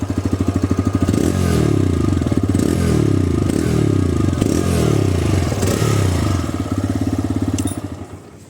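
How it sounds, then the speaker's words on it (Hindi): A TVS Raider 125 motorcycle engine revs up in repeated bursts, loud and close, rising and falling over a steady idle before settling at the end. "और अब मैं थोड़ा सा रेफ करके सुना देता हूँ"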